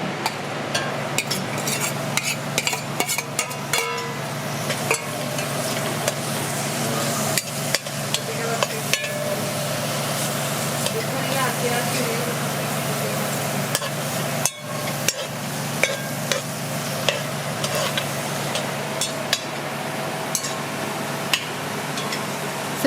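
Green bananas sauté in a pan with a constant loud sizzle, while a utensil taps and stirs against the metal in frequent sharp clicks up close.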